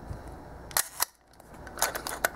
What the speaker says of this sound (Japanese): シャッター音もとても良くて、4分の1秒もきっちり安定して切れてますね。